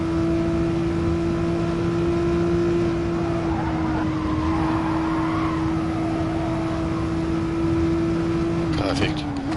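A race car engine in a racing game drones at a steady high pitch while holding speed, dipping briefly near the end as the throttle lifts, with someone talking over it.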